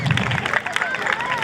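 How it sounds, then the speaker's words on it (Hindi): A church Christmas event audience claps in a quick burst of applause, with crowd chatter and a voice speaking over the clapping throughout. "तो जोरदार तालियां।"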